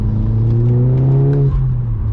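Audi S3 engine with about 300 bhp accelerating in third gear on a night drive, a steady droning hum rising in pitch and then settling, heard from inside the car without speech.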